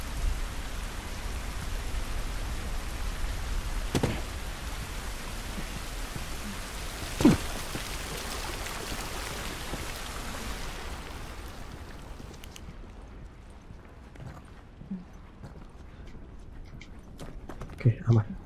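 Steady rain hisses across the whole scene in The Last of Us Part II, with scattered drops and thuds, thinning out toward the end as the surroundings quiet down; a voice speaks briefly.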